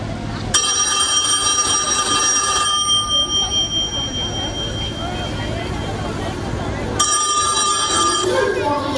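Telephone ringing during a school stage drama, a bright repeating electronic ring in two bursts, one at the start and one near the end, over a steady room hum.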